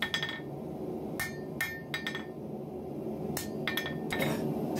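Hammer forging a steel sword guard over the horn of an anvil, ringing metallic blows in uneven clusters, close and bright, against a low background hum with no talk.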